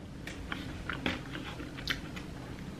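A McDonald's spicy chicken sandwich is bitten and chewed close up, a run of soft crunchy bites and moist mouth noises with no talking.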